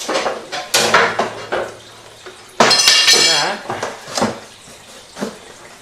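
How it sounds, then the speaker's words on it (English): Plastic egg container set into a Reptivator reptile egg incubator and the lid clamped shut, a few hard knocks and clatters followed by a louder scraping clunk, close by with quiet talk around them. "into the Reptivator it goes, with the lid clamped shut"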